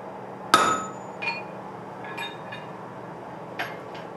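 Hammer blows on metal ring out in a family forge where traditional tools are made, one sharp loud clang followed by several lighter, scattered taps with metallic ringing.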